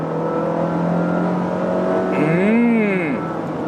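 Gasoline engine of a 2024 Honda Freed (L15D) accelerating hard in S range, revs climbing in a steady rising drone that swells louder toward the end, with no talk.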